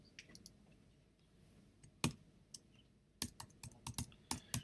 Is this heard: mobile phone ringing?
no